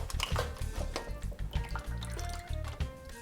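Juices drip and trickle from tender baked baby back ribs set down to drain, a close run of irregular liquid drips and small splashes with soft clatter underneath.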